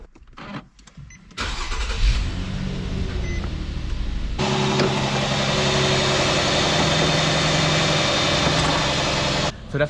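An Infiniti FX35 engine cranks and fires up after an alternator replacement, then settles into a steady, close idle that runs for several seconds, preceded by brief handling noises.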